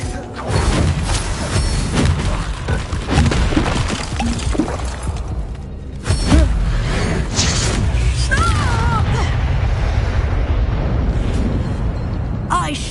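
An Expelliarmus spell is cast during a duel in Hogwarts Legacy, heard as magical bursts, booms and shattering effects in a busy combat mix, with voices at times.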